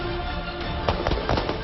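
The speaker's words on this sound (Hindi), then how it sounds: "दुश्मन का सामना करते हुए जवान युद्ध के मैदान में आगे बढ़ रहे हैं और इस दौरान दनादन गोलियां चल रही हैं" Rapid gunfire during an army training exercise, a cluster of sharp cracks in quick succession rising out of steady broadband noise partway through.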